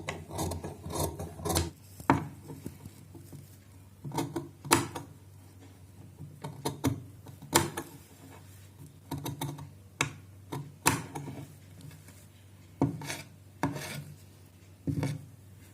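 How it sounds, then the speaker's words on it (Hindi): Scissors trimming and cutting fabric for a party wear cutwork sleeve design with mirror lace, giving crisp irregular snips and rasping cuts in clustered bursts, close and alone. "ऐसे हम बाकी के सारे फैब्रिक को ट्रिम कर देंगे।"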